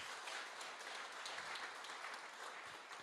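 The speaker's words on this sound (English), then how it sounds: "Give a big round of applause for them." Steady applause from an audience at a business presentation, clapping for staff, many hands at once filling the room at a moderate, fairly distant level for a few seconds, no voices heard over it.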